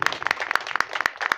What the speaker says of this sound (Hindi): एक बार जोर से ताली हो जाए।